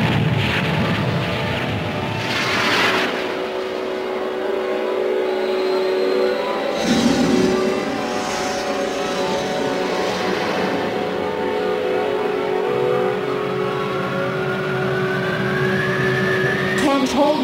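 A powerful engine roar builds and sustains with a rising whine, swelling in a couple of bursts, as an animated spaceship's drive engines fire.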